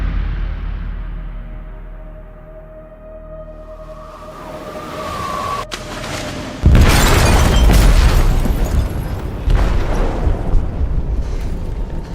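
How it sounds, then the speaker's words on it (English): An explosive detonating in a ship's hold in Detroit: Become Human: a low rumbling hum and a fading tone give way to a sudden massive blast, followed by a long, loud roaring and crashing tail. "They detonated an explosive in the hold."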